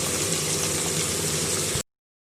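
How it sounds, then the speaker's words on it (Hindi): Water poured into a pot of cooking brain masala gives a steady, close hiss and sizzle of liquid hitting hot spices, lasting under two seconds before stopping abruptly. "पानी शामिल कर दिया"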